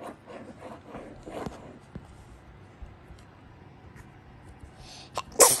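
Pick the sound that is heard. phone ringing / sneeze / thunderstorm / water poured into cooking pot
sneeze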